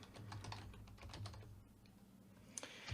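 Steady typing on a computer keyboard, close and quiet, with rapid clicking keystrokes that pause briefly midway and then resume with a few sharper taps.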